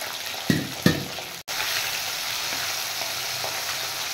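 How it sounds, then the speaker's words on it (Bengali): Fish fries in a pan with two sharp splattering bursts, a brief cut to silence, then a steady, close, even sizzle that continues to the end without talk. "আমি মাছটা বেশি ভাজছি না, একটু করে নামিয়ে দেবো।"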